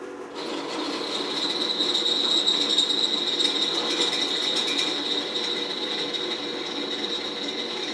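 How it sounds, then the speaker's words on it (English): A drill fitted with a 3/8 inch bit spins against a plate, giving a steady mechanical whine with a thin high ringing tone that runs continuously and fairly loud. "I'm just going to start it up and let the plate move around a little bit until the drill bit finds the center"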